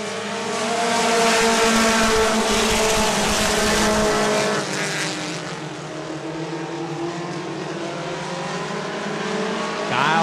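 Mini stock race cars roar around an oval track at Angola Motorsport Speedway, a loud pack of engines sweeping past and fading off into a steadier distant drone.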